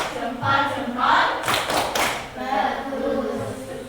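Children clap along to a thumb-clap chant in a classroom, with bursts of hand claps and taps over chanting voices.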